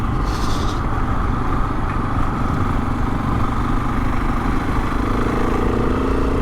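A KTM 701 supermoto engine runs steadily and loudly near a biker cafe at Hartside Summit, holding a continuous mid-pitched drone throughout with no speech.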